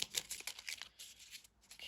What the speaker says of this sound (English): Some fell out, so I'm gonna shuffle these, the ones that fell out.